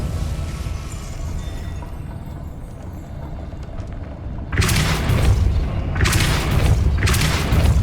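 A Depulso spell from Hogwarts Legacy goes off as deep booming blasts, a burst about halfway through followed by two more strong surges, heavy and close over a rumbling game background.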